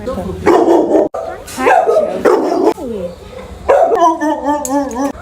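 Dogs at an animal shelter bark and yip loudly and close by in repeated bursts, with a whimper and people talking.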